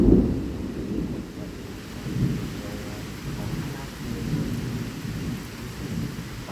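Severe thunderstorm in southeastern Pennsylvania with damaging winds: continuous low rumbling thunder and steady rain, with heavier rolls near the start and around the two-second mark, no talking.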